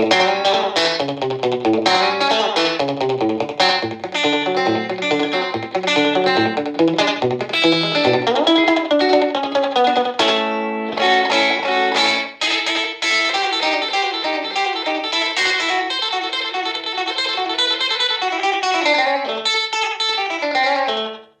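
Electric guitar through a 1974 Fender Silverface Champ amp, treble near 5.5 and bass near 4.5, with a slapback echo pedal plays a continuous, dense run of chords and notes, bright and slightly distorted, with no talking.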